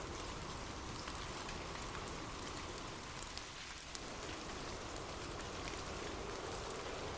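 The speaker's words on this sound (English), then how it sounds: "Imagine gentle raindrops falling softly on leaves" Gentle rain falls steadily on leaves, a soft, even hiss of drops that continues unbroken and fairly quiet throughout, with no voices.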